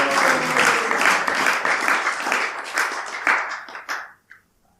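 Applause from a gathering of devotees welcomes the children: dense, steady clapping from many hands fills the room, then thins into a few last claps and dies away near the end.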